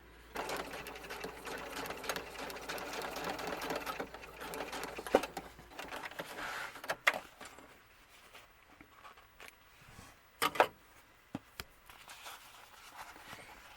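A sewing machine stitches pleats on a small doll hat, running close to the edge in a continuous whirring run that slows and gives way to scattered clicks and handling taps.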